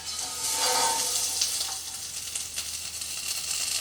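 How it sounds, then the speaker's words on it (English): Butter frying in a pan over low heat gives a soft, steady sizzle with faint crackles, close by and fairly quiet, with no voices. "In my pan, which is on a low heat, I'm going to fry quite an amount of butter."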